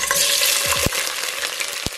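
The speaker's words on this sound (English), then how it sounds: "I added about 3/4 cup of oil to this saucepan. It's on high right now, so we can fry the onion." Onion frying on high heat in about three-quarters of a cup of oil in a saucepan, a steady dense sizzle with a few sharp stirring clicks, close and continuous.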